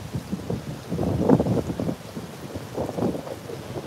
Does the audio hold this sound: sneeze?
no